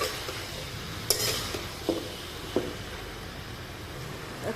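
Mixed vegetables fry in a pan under a soft sizzle, with three or four distinct clinks and scrapes of a spatula stirring against the metal, fairly quiet and close.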